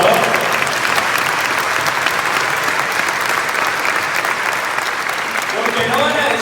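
A church congregation at a Wednesday mass applauds loudly and steadily, with dense continuous clapping that lasts the whole stretch and rises slightly near the end, where a voice briefly joins.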